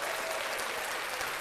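Steady applause from a studio group on a live sports talk show, dense continuous clapping at a constant level for the whole stretch with no talk over it.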